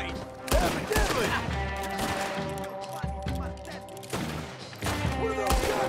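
Rapid gunfire in a Red Dead Redemption 2 gunfight: repeated sharp shots and volleys crack over a bed of other game noise, loud and close, with bursts returning every second or so.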